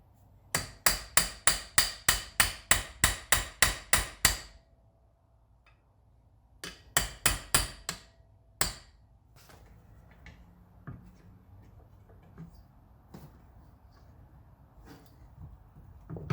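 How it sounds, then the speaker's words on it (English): Hammer blows driving an axle through the hub of a Scion FR-S / Subaru BRZ / Toyota 86, a rapid run of about a dozen sharp metallic strikes, a pause, then a shorter burst and one final hit. "I should be able to hammer this through the rest of the way"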